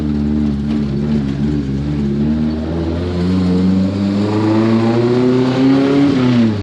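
A car's engine hums loudly and close, its pitch rising steadily as it accelerates and draws nearer.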